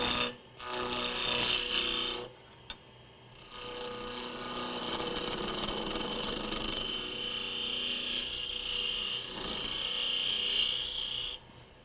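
A small wooden blank about an inch square is rounded on a lathe, with a rasping, scraping cut over a motor hum, near and loud, pausing briefly at the start before cutting steadily.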